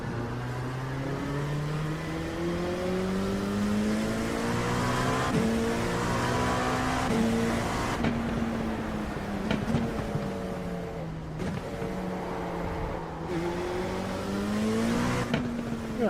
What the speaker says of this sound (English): let's do some laps in this here LMP